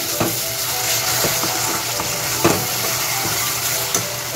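Spice paste frying in oil in a pan for a bottle gourd kofta curry, a steady close sizzle broken by occasional scrapes and knocks of the spoon as it is stirred.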